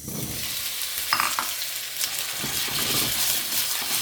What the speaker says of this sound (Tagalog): Unahin natin munang iprito ng konti yung ating patatas.